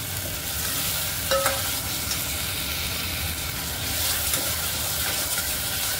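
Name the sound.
dal being sautéed and stirred in a pan for methi khichdi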